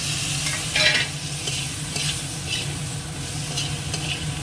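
Spice paste with chillies, cooked down until the oil separates, sizzles steadily in a pan as potatoes go in, a continuous close frying hiss with a few scraping stirs and light utensil clinks.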